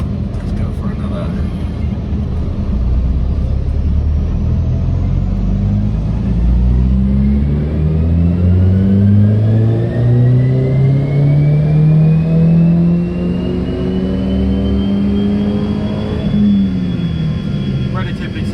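A 20-year-old SAAB car engine revs hard on a dyno, its loud, continuous drone climbing steadily in pitch through a long pull, then easing off near the end.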